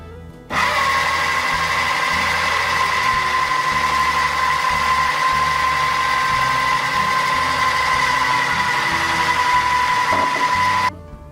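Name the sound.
food processor running, blending margarita pie filling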